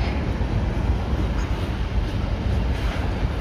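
A freight train hauled by GE locomotives rolls past close by, a steady loud broadband rumble and roar of wheels and cars with no pauses and no voices.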